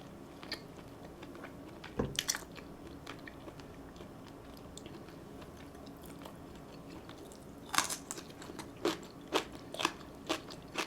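Someone eats spicy braised chicken with green onion kimchi, giving close, crisp bites and crunchy chewing in scattered bursts against a quiet background, with no talking.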